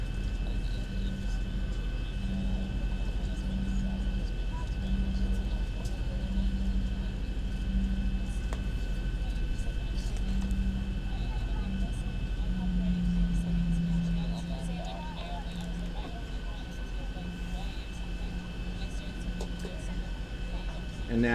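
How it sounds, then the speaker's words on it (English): Inside an airliner cabin during landing, a steady broadband rush of air and engine drone fills the space while a voice talks throughout, with a faint hum and a rising pitch tone partway through. "you can hear some more wind resistance as the plane does a little bit more work to"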